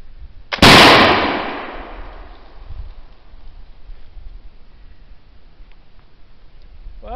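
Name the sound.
single musket shot fired offhand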